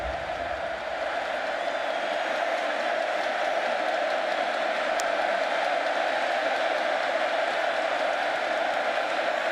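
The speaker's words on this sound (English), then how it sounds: "this crowd is coming alive here" A big stadium crowd of around 100,000 at a Bowling Green vs Texas A&M college football game roars and applauds in a continuous dense wash of noise, steady and loud throughout, with a brief sharp spike midway.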